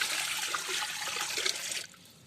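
Water poured into a monk's alms bowl, used to steam sticky rice in the forest, a close continuous splashing gush that stops abruptly near the end, leaving faint background noise.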